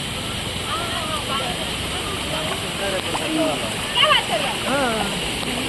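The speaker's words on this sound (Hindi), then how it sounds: "यहाँ पर एक और वाटरफॉल देखिए, पानी पूरा रास्ते पर आ गया है।" A waterfall near Tungareshwar temple sends water spilling across a footpath, making a constant rushing, splashing wash while someone talks over it.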